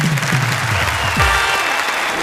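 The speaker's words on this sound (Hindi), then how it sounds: "और हम उन्हें देंगे तालियां।" An audience at a Hindi comedy and poetry show claps in a dense, steady burst of applause that swells briefly and keeps going, with a faint voice underneath.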